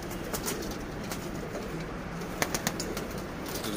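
Pigeons of several breeds coo softly amid a busy ambient hum at a breeder's cage setup, with a few sharp flutters or clicks midway.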